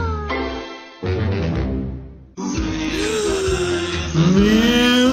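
A kitten meows repeatedly, drawn-out high cries with short pauses between them, close and fairly loud.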